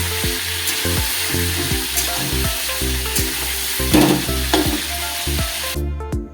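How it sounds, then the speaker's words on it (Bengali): Chicken pieces frying in oil for a light chicken curry, loud close sizzling crackle under a repeating rhythmic hum, with a few louder spatters before it cuts off abruptly. "চিকেনটা তেলে ভেজে নিলে একটু সফট হয়ে যায়।"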